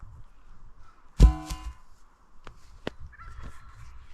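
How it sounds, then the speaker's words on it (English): Wild turkeys gobble outdoors: one loud rattling burst, then a few shorter, fainter calls spaced apart. "Can you guys hear the turkeys?"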